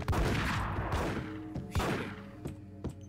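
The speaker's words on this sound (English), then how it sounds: "Who's shooting?" Gunfire from the video game Max Payne, a run of loud, close shots, dense at first and then a few spaced single bangs with booming low tails.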